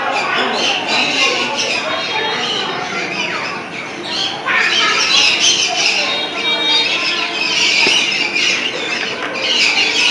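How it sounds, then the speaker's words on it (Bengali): Budgerigars squawk and chatter in a zoo aviary, a dense, continuous flock of shrill calls close by, with voices talking underneath. "অনেক বদ্রি পাখি আছে ভেতরে"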